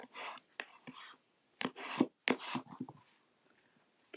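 Paper card layers are burnished flat with quiet, close rubbing and scraping strokes in short bursts separated by brief pauses.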